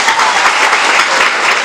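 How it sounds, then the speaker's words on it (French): A quiz competition audience applauding a correct answer at a school contest final, a brief burst of dense, loud clapping at a steady level. "le public applaudit au moment opportun"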